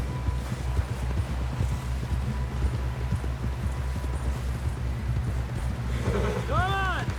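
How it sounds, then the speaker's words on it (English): In the Red Dead Redemption 2 video game, horse hooves beat a steady, rapid clip-clop close by. Voices call out over the hoofbeats. "Someone help John down off this horse."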